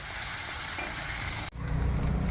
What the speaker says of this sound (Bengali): পেঁয়াজটাকে ভালো করে ভাজতে হবে